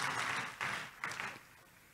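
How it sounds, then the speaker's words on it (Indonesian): Church congregation applauding during a Sunday Indonesian worship service, a few short bursts of clapping in a reverberant hall that fade out toward the end. "Tepuk tangan dulu yang meriah buat Tuhan kita Yesus."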